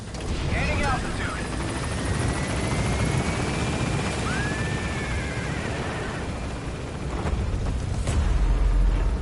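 A helicopter in Metal Gear Solid V gains altitude with a loud, continuous rotor roar and a rising whine, with brief radio-style voice chatter near the start.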